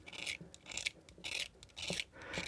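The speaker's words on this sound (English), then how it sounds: "one way to find out, let's scratch it" A brass Sangamo street lighting time switch is scratched with a rasp-like tool, giving a series of short, close gritty scrapes in irregular bursts, with no talking.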